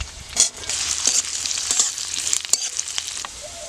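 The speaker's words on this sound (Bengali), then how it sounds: "আলুটা ভাজা হয়ে গেছে" Chopped potato sizzles in oil with onion, capsicum and green chilli in a pan, a steady close crackle punctuated by frequent spatula stirring clatters.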